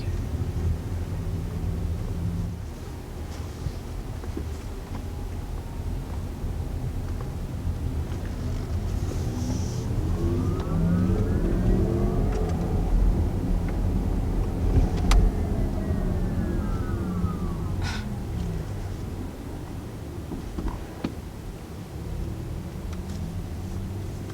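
A 2019 Audi e-tron electric car on the move gives a steady, even hum of road and tire rumble with a wind hiss, and no engine note. The sound stays constant throughout, with no talking.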